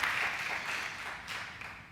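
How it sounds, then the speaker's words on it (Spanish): A church congregation applauds in a continuous wash of clapping that holds steady and then eases slightly, heard at moderate distance. "Denle el aplauso al Señor Jesús"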